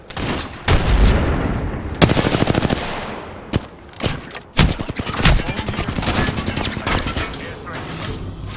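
Sustained automatic weapon fire in the shooter game Apex Legends, rapid bursts of shots rattling almost continuously with brief pauses, loud and close, mixed with game effects.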